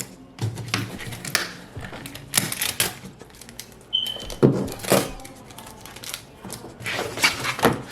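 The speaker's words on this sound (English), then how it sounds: "after it finishes cutting, we're going to take it out the Cricut maker" A Cricut Maker cutting heat transfer vinyl for an acrylic wedding sign, giving off irregular mechanical clattering and short whirring runs at close range, with one brief high beep partway through.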